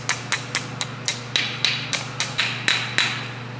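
A small hammer taps an ABS ring into place on a Saab, with about a dozen sharp, evenly spaced metallic taps over a low steady hum, close and clear.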